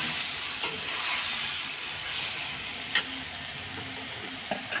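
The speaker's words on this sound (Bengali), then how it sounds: "এবার কষিয়ে নেব।" Potatoes and paneer curry being sautéed in a pan give off a steady close sizzle, with a few sharp clinks of a spatula stirring against the metal.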